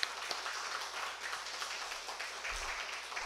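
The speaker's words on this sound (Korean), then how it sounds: "좀 격려의 박수 한번 주시기 바랍니다" A church congregation applauds in encouragement for a broadcast-room volunteer, a soft, even patter of many hands heard from a distance and sustained throughout, with no speech.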